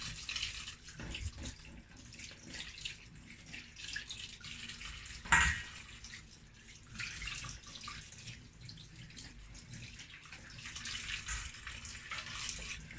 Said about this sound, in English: This crab as well, be careful when you are rinsing it